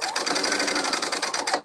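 A sewing machine stitching kimono fabric runs in a continuous, fast, rhythmic whir of needle strokes, close and fairly loud, with no voices over it.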